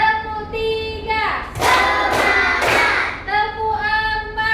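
A classroom of pupils does a rhythmic spirit clap, a short run of about three loud, sharp group claps between stretches of voices chanting along.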